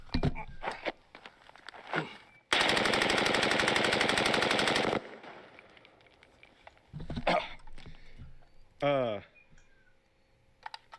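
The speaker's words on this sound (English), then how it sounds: "I shot the machine gun" A machine gun fires one sustained, dense burst lasting about two and a half seconds, loud and continuous, with people talking before and after it and other short clicks and noises around it.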